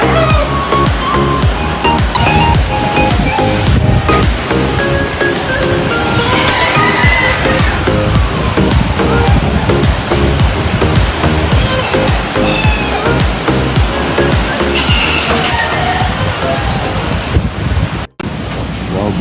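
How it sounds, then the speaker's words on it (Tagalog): Typhoon Kristine (Trami) roars across a Philippine farm in October 2024, a dense, unbroken rush of strong wind and driving rain that stays loud and steady for the whole stretch, with only a brief dropout near the end. "Bagyong Christine po, napakalakas."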